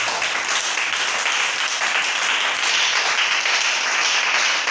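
A church congregation applauds together, a steady, dense wash of clapping that holds at full strength throughout without a break.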